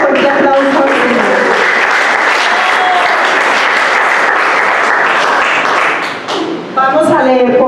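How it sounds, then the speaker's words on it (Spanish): A church congregation breaks into loud, sustained applause during a Spanish-language evangelical worship service. The dense clapping is close and continuous, then dips briefly before rising again. "Levante un fuerte aplauso al Señor."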